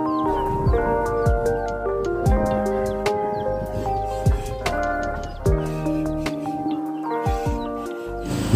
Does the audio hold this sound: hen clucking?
yes